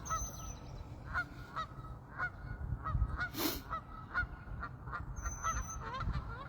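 Geese honk repeatedly in short, scattered calls, mid-distance and moderately loud, over a steady low rumble of outdoor background noise.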